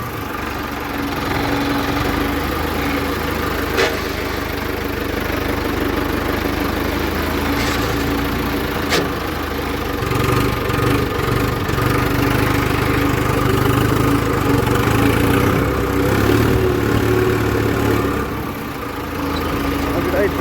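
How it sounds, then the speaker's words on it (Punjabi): A tractor engine runs steadily up close, a loud continuous diesel drone with occasional clanks, while a voice speaks over it. "ਇਹਦੇ ਟਰੈਕਟਰ ਬੜਾ ਔਖਾ ਚੱਲਦਾ"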